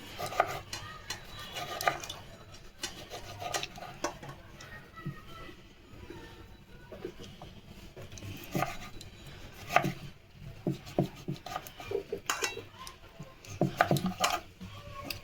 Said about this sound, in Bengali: এভাবে সব টমেটো আমি কেটে আসছি।